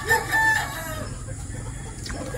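A Sweater Gilmore breeder rooster crows once at a game farm, a short loud call near the start that fades into quiet background hum.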